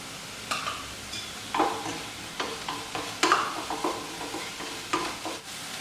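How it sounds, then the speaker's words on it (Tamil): Onions being sautéed and stirred in a pan with salt until browned, giving a soft continuous sizzle broken by repeated scraping stirs, close by with no talking. "வெங்காயம் நல்லா சிவந்து வர வரைக்கும் வதக்கி விட்டுருங்க."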